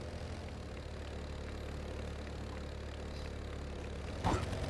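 Car engine idling in LEGO Worlds, a faint, steady low hum with a brief clatter near the end.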